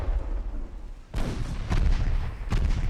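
Torpedo hits explode in the naval strategy game Ultimate Admiral Dreadnoughts, a sudden loud boom followed by two more blasts in quick succession, each with a rumbling tail, over a low background drone.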